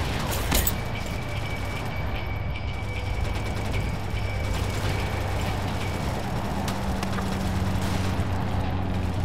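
Rapid gunfire and a continuous mechanical rumble in the World War Heroes video game, with sharp shots and bursts running throughout over a steady low drone and no talking.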